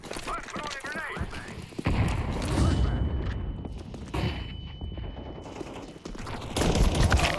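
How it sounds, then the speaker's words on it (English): A grenade thrown and going off in Counter-Strike 2 on the Overpass map, with a deep, heavy blast and rumbling aftermath amid game noise and chatter; later bursts of loud action follow. "Let's throw a grenade."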